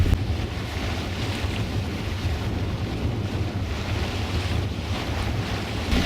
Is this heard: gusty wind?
yes